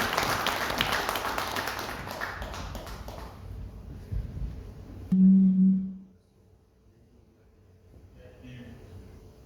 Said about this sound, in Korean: 보내주신 우리 김봉권 박사님에게 박수 한번 보내주시기 바라겠습니다.